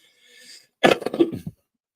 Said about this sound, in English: You will hear me cough every now and then. Here's my cough.